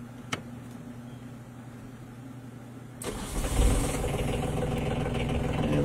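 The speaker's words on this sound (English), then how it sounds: "And this is the starboard engine." The starboard engine of a Catalac 12M catamaran cranks and fires about halfway through after a quiet, faintly humming start, then settles into a steady, moderately loud running rumble.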